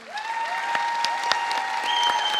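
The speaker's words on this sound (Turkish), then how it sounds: "Turanj masaya bir moral alkışı" A studio audience on a televised quiz show gives a burst of encouraging applause, brisk clapping over a sustained electronic tone from the show's music.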